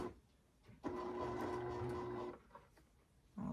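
A sewing machine sews a seam on square-in-a-square and flying geese quilt blocks with a smooth, steady whir of about a second and a half, followed by soft fabric handling and a brief rustle.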